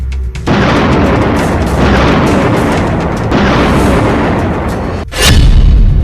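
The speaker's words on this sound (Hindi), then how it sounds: "M777 तोप 30 किलोमीटर से ज्यादा दूरी तक 155 मिलीमीटर का गोला दाग सकती है।" An M777 155 mm howitzer fires with a heavy, booming blast. The roar rolls on for several seconds, and a second loud, sharp report near the end is followed by a deep low rumble.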